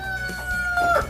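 Free-range chickens on a backyard farm cluck and call in a brief, close burst, a short rooster-like cry standing out over the low hens' chatter.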